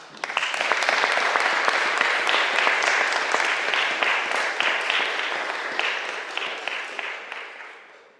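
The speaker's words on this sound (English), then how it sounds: "A round of applause for Michael." Dense audience applause fills a Durham Union debating chamber as a historian is welcomed to speak on Napoleon, loud and steady throughout before tapering off at the end.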